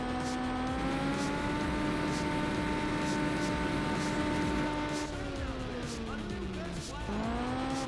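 A car brakes hard from high speed in the racing video game Juiced 2 Hot Import Nights, its steady engine whine dropping sharply in pitch as it slows, with a brief tire squeal near the end, loud and unbroken throughout.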